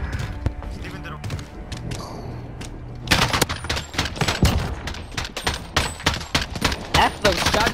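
Rapid gunfire from a chopper gunner killstreak in a multiplayer shooter game, sharp cracking bursts pouring down in a dense stream, loud and close, with a thump mixed in and players talking throughout.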